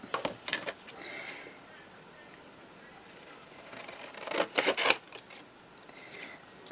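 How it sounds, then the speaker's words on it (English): Scissors cut through paper while a scalloped square memory book is made, giving short crisp snips and rasps close by, with a louder burst of cutting near the end and light background noise. "So let me just cut now along there."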